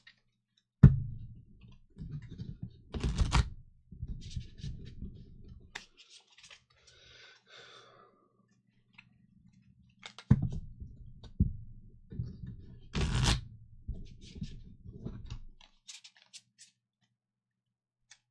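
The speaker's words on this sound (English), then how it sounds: "Let's shuffle up." Playing cards are shuffled for a tabletop game in two bursts of rapid riffling and riffle-clicks, each roughly five seconds long, with a quiet gap between them. No one speaks.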